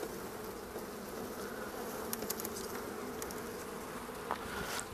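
Honey bees buzzing around an open beehive in an apiary, a continuous close droning hum with individual bees whirring past now and then, no talking.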